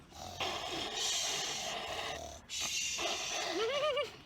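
A voice mimics snoring with long, rasping rumbles on each breath, two drawn-out snores, the second ending in a wavering snort.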